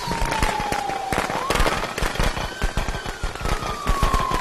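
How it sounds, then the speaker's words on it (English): Firecrackers go off in the Friday the 13th video game, a loud, dense string of rapid sharp pops that crackles on without pause, with a faint siren-like tone rising and falling behind. "I hope you like those firecrackers."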